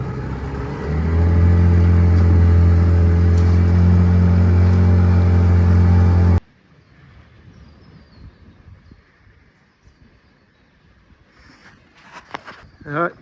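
A motor dinghy races across the water off Fraser Island, its outboard engine droning loud and steady for several seconds before cutting out abruptly, leaving faint wind and scattered small knocks.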